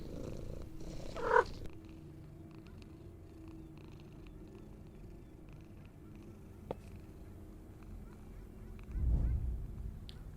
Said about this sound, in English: Petting the cat.